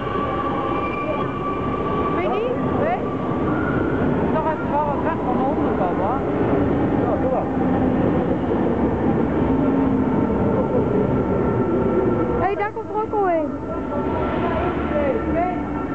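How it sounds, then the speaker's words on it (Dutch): A GVB metro train pulls into Duivendrecht station with a loud, steady rumble, wheels squealing and whining along the rails and brakes hissing toward the end, while people talk close by. "Daar komt onze trein aan."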